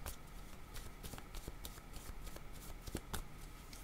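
Tarot cards being shuffled by hand, a quick run of crisp riffling flutters and soft slaps repeating close up, with no talk over them.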